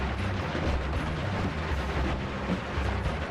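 Dense, continuous rumbling blasts fill a fantasy video game battle in Asheron's Call, a loud, steady roar of explosions with no clear gaps between them.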